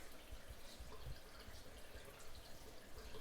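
A kitchen sink sprayer left running because it will not shut off, giving a steady, close rush of water that stays constant and unbroken throughout, with no voices.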